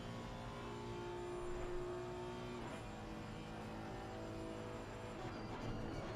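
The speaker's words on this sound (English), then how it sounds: "Just listen to the roar of that VTEC." A GT3 race car in the ACC racing game roars down the back straight at the Circuit of the Americas with its VTEC engine at high revs, a sustained loud drone with shifting pitch and no voices.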